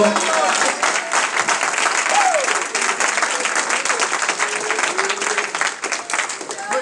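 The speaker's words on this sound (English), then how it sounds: "Let us clap our hands to the" A church congregation claps their hands in praise during a sermon, a thick, continuous crowd of clapping lasting several seconds, with voices calling out above it.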